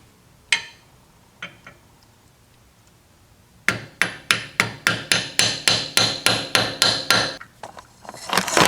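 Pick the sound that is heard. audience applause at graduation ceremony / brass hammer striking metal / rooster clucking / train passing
brass hammer striking metal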